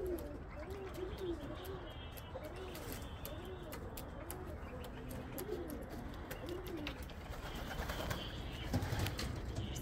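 Racing homing pigeons at their loft after a training toss coo in repeated soft, rolling phrases, several birds overlapping at close range against a steady outdoor background.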